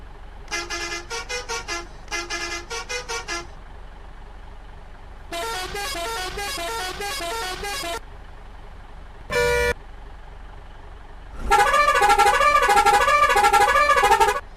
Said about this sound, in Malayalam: ആദ്യം സ്റ്റിയറിംഗിന്റെ നടുക്കുള്ള ഹോൺ, അതിനുശേഷം ബാക്കി 3 ഹോൺ നമുക്ക് നോക്കാം.